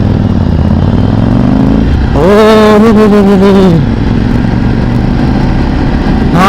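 A yellow Royal Enfield Shotgun motorcycle with an aftermarket silencer passes close by, its engine note rising and falling as a loud, steady drone for about two seconds over a constant background rumble before fading.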